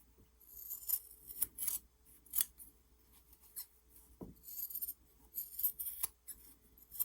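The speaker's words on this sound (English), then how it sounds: "then I'm ready to trim all the way around" Scissors trim around the edge of a tiny Christmas tree mini quilt, a series of quiet, crisp snips and rustles of fabric close by, spaced irregularly over several seconds.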